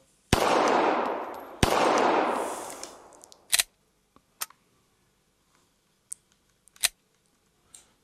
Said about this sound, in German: So, jetzt habe ich da zweimal drauf geschossen.